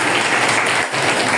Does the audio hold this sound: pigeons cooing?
no